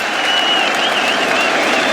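A cricket crowd at an England versus India Test match breaks into loud, dense applause and clapping after a boundary through point, sustained and close throughout.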